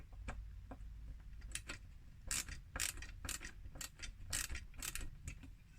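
Metal screws being driven into a plastic model car part of a KITT replica build, giving irregular sharp clicks and ratcheting ticks from a screwdriver, close up over a low background hum.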